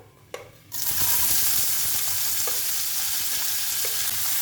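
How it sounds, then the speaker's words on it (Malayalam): Chopped onions and green chillies dropped into hot oil, a quiet clink then a sudden loud, steady sizzle that keeps hissing close up, with faint stirring knocks. "നമുക്ക് 2 സവാള ചോപ്പ് ചെയ്തത് ഇട്ട് കൊടുക്കാം."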